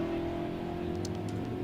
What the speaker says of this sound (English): Little 29 Ford Street Rod going down left-hand side and the Dodge pickup truck on the right-hand side.